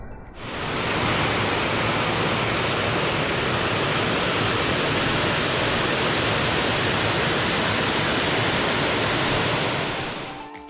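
A waterfall in Phu Kradueng, Thailand, roars steadily and loudly, a dense, unbroken rush of falling water that holds at a constant level throughout.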